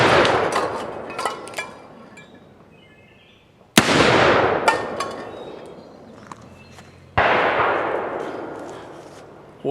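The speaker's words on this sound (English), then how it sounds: "we're going to take out the Alchemista II and see if we can make some cans fly off the fence" Three sharp, loud gunshots from an EMF Alchemista II revolver fired at tin cans on a fence, each crack trailing off in a long echoing decay, with faint rustling and small knocks between shots.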